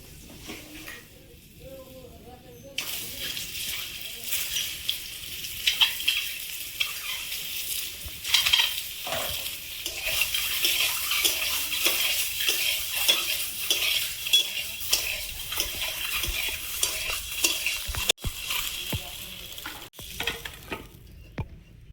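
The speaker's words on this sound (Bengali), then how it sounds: "কড়াই 1 ফোঁটা খানি তেল দিয়ে ডিমটা ভেজে নেব" An egg fries in a single drop of oil in a home kitchen wok, giving a steady close sizzle with stirring and scraping on top. A metal utensil clinks now and then, and there is no talk.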